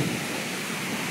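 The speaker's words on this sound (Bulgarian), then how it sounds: "Много пръска вода, бе" Spray from the Smolarski waterfalls, a dense continuous roaring hiss, loud and close, unchanging throughout.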